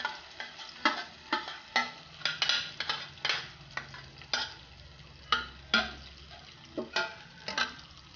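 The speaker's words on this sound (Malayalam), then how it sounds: "ക്യാരറ്റ് മിക്സ് ഇതിലേക്ക് ഒഴിച്ചിട്ടുണ്ട്" Grated carrot mixture for carrot pola going into a pan, with repeated distinct scraping and clinking strokes of a utensil against the pan at an uneven rhythm, close and fairly loud over a faint steady background.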